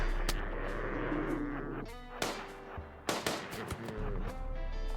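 Gunfire in the colony game RimWorld crackles in short bursts, sharp loud shots spaced irregularly with a few rapid clusters, over a low steady background hum.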